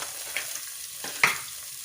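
Onions tossed into hot oil in a pan crackle softly, with a few sharper pops and stirring scrapes standing out from a quiet sizzle.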